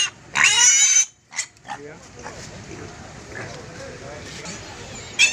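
Pigs at a sale in Tinsukia give a loud, piercing squeal, then lower snorts and grunts over a steady noisy background.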